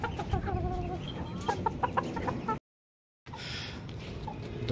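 Bantam chickens cluck and chatter in a small mini-zoo enclosure around feeding time, a busy close flock sound that cuts out briefly to silence before resuming.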